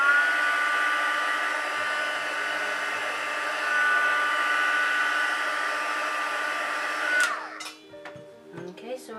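A handheld hair dryer blows steadily on a folded paper layer to heat-set it during preliminary creasing, a loud continuous whir for about seven seconds before it cuts off, leaving a few light handling clicks.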